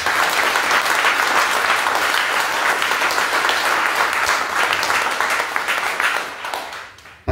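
A church congregation at a Mass applauds steadily, dense and loud sustained clapping filling the space before fading out at the end.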